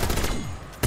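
Rapid automatic gunfire from a weapon in a video game, a dense burst of shots lasting under a second that ends with one sharp final blast.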